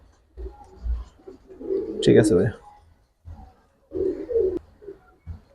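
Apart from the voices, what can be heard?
pigeons cooing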